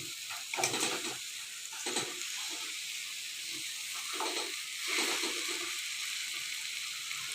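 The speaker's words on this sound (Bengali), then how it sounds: "পাঁচশো গ্রাম গুড় পাঁচশো গ্রাম দুধ দিয়ে এখন এভাবে ভালো করে নাড়তে হবে নাড়তে থাকবেন এভাবে" Jaggery and milk being stirred into mango pickle in a pan, giving a continuous bubbling sizzle broken by repeated scraping stirs, close and moderately loud, no voices present.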